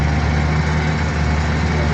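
A car engine runs at a steady idle, a dense low rumble that stays loud and close throughout without letting up.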